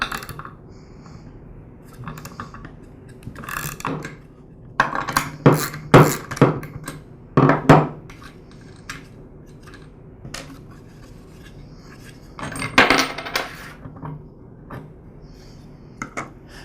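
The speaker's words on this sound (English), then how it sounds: "Now I can remove the nut and the fan." A nut and fan are removed from a Ryobi handheld gas blower, giving sporadic metallic clicks, scrapes and rattles of tools and parts, close up, with quiet gaps between bursts.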